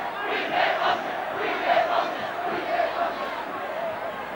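Crowd of supporters at a 1982 rugby league match between Hull FC and Australia at the Boulevard: a distant, diffuse roar of cheering and chanting voices rising and falling in waves.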